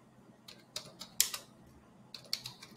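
A few quick keystrokes on a computer keyboard as a terminal command is typed, sparse clicks in short irregular bursts, faint and close with no talk.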